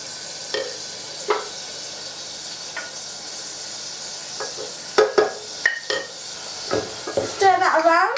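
Onions go into hot, crackling oil with spices for a goat curry, with a soft sizzle under scattered clinks and scrapes of a utensil against the pot, building to busier stirring toward the end.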